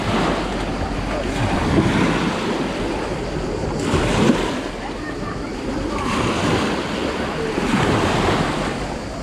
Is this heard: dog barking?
no